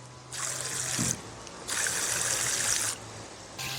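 An AUTOPkio portable camping shower sprays water at its lower pump speed, a steady hissing spray in bursts that stop and restart three times, with a faint motor hum underneath and no talking.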